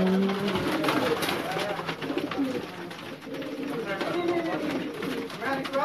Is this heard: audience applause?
no